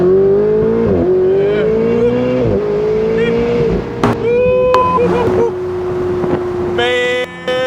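A Ferrari 488 Spider's engine revs loudly and up close while driving, its rising and falling pitch changing with shifts, with a voice speaking over it.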